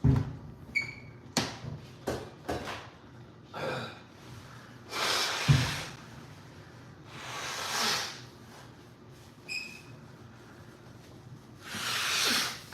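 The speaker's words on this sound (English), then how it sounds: "I gotta blow my nose." A person blows their nose several times, with short sharp snorting blasts and longer hissing exhales spaced across the stretch, close and moderately loud with no talk.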